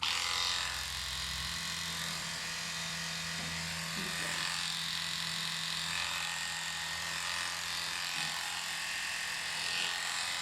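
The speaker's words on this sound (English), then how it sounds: "I think she can slightly see that the clipper is somewhere in front of her face" Electric dog clippers, slightly clogged, buzz steadily while grooming a small stressed Shih Tzu, a constant close whirring drone with faint handling noises and no clear talk.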